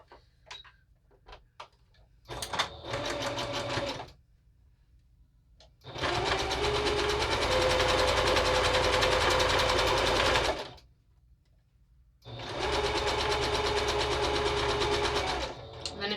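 A sewing machine stitches quilt half-square triangles with a scant quarter-inch seam, running in two long, steady whirring bursts separated by a short pause, close and loud.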